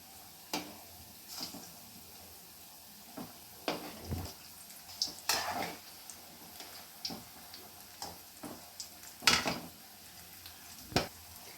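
Egg bondas frying in oil, a soft, quiet bubbling sizzle with scattered sharp ticks and clicks, irregular and fairly close.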